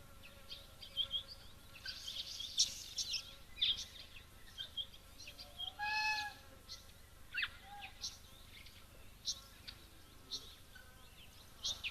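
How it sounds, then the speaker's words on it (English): A bird calls in the background at a bushveld waterhole, producing faint, scattered high chirps and whistles among insect buzzing, with one clearer descending call near the middle. "I'm not quite sure what bird is calling in the background."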